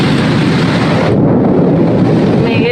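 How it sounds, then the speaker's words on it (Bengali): Thunder rumbles through a steady wash of light rain and wind in a rural spot where coconut and areca palms sway, a dense continuous roar with no voices. "মেঘের গর্জন, দেখো কেমন।"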